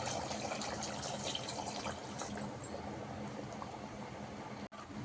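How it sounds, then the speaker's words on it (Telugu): Water is poured into a mutton curry gravy with tender tamarind leaves, giving a soft, steady liquid pour and bubbling that fades slightly toward the end, fairly quiet and without speech. "సో ఇప్పుడు మనం గ్రేవీకి వాటర్ యాడ్ చేసుకుందాం"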